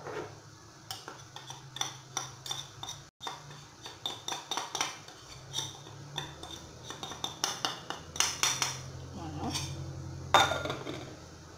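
Chicken being mixed with oil, spices and mustard in a bowl: repeated clinking and scraping of a utensil against the dish in irregular bursts, fairly close and moderately loud.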